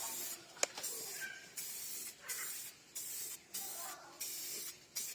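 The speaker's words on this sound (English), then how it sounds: "First time I've actually used weld-through primer." Weld-through primer sprayed from an aerosol can onto a car body in a workshop, heard as a series of short, steady hissing bursts with brief pauses between them, fairly quiet and close, with no talking.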